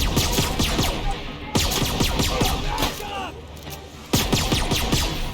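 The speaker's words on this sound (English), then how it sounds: "Who else is shooting at me?" Enemy gunfire rattles through a firefight in The Outer Worlds, with rapid dense volleys that break off and restart in sharp bursts, close and loud over the game's background noise.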